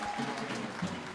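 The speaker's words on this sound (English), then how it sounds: "Give a hand clap to Jesus" Congregation clapping at an evangelistic church conference, a dense wash of hands at moderate level with a few vocal tones and murmurs mixed in beneath.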